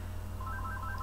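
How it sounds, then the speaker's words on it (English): A telephone sounds with short repeated electronic tones in a steady rhythm over a constant low hum, moderately loud and alone with no talk. "That was the phone call for somebody else."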